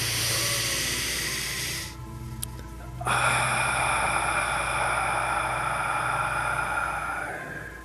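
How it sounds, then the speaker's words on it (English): A deep breath drawn in through the nose during a guided sunset breathing and meditation session, a loud, close, sustained airy hiss that briefly drops away before resuming. "Nice deep breath in through the nose."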